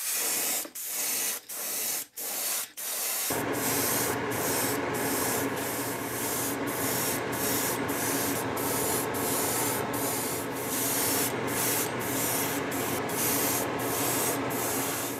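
Opaque white paint sprays onto a swimbait eel lure in a long, steady airbrush hiss, broken by a few short bursts at the start and continuing with rhythmic pulses throughout, close and alone.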